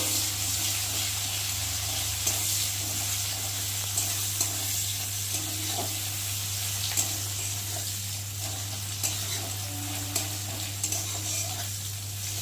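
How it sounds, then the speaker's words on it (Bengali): Onions fry in hot oil for a spicy bhola fish curry, a continuous moderate sizzle with occasional light stirring taps over a low steady hum. "আর এখন আমি পেঁয়াজগুলো দেবো। পেঁয়াজটা একটু ভালো করে ভেজে নেব।"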